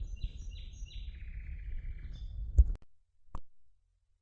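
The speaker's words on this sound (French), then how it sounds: "Écoutez ces chants des oiseaux." Faint birdsong outdoors at a solo bivouac camp: a few high chirps and trills over a low rumble, followed by sharp clicks and handling noise, then quiet.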